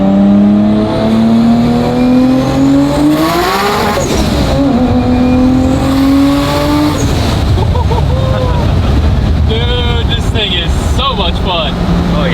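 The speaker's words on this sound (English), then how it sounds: "So we're gonna set this thing on wastegate and show you guys just a wastegate pull." A 1500HP Dart with a 3.2L stroker 2JZ on a wastegate boost setting roars loudly and climbs in pitch through several gear shifts during a hard pull, with people talking inside the car.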